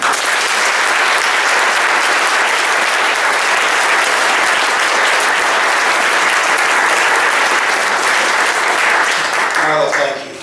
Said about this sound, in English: Please extend a warm welcome to Senator Carl Levin.